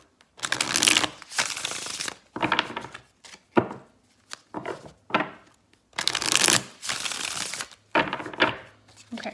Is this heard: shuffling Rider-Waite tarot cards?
yes